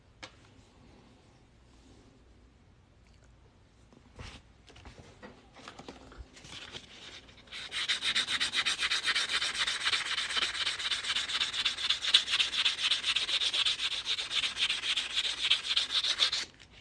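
A silver 1977 proof Ike dollar coin ring is rubbed smooth with abrasive, starting with a few quiet handling knocks, then a steady, close, rhythmic sanding scrub that runs for several seconds.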